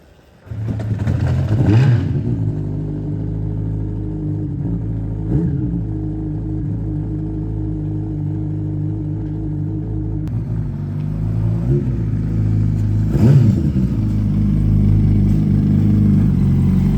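A 2005 Yamaha R1 sportbike, rebuilt after a wreck, fired up and running: a low idling rumble with two sharp revs, close and loud throughout.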